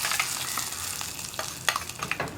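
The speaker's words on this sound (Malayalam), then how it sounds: "ഇനി നമുക്ക് നമ്മുടെ വറവ് കറിയിലേക്ക് ചേർത്ത് കൊടുക്കാം" Hot fried-onion tempering poured into a pot of green gram curry gives a broad crackling sizzle with a few sharp pops and clinks, close and steady, no voices.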